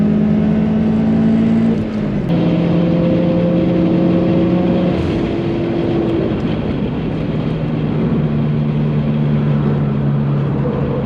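A Subaru STI drives at a supercar meet, its engine a steady loud drone with rising and falling pitch through the gears, continuous for the whole stretch.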